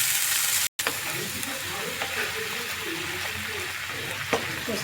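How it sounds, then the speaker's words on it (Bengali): Potol korma cooking in a pan with cashews and poppy seed paste water, giving a steady sizzle and hiss with light stirring scrapes and a brief cut near the start. "পোস্ত বাটার জলটা দিয়ে একটু কষিয়ে নিচ্ছি"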